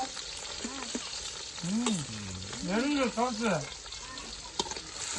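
Chicken curry sautés in a pan with a steady, crackling sizzle, while voices talk loudly over it almost throughout.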